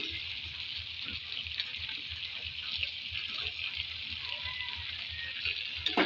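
Fried potatoes added to chicken cooking in a pan give a continuous bright sizzle, steady and moderately loud, with soft low thuds pulsing underneath.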